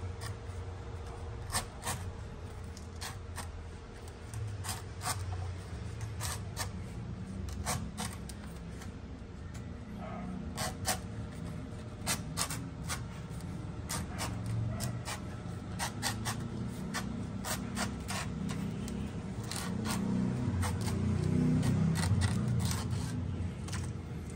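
A Swiss knife saws through wood in a long series of close, rhythmic rasping strokes that build slightly louder toward the end.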